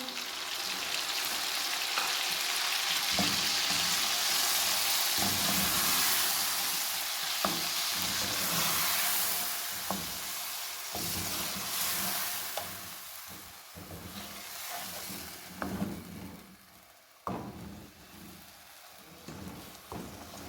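Ground tomato paste poured into a karahi over fried garlic and ginger for Afghani chicken karahi, a loud dense sizzle that gradually settles, with occasional stirring knocks and scrapes, close up.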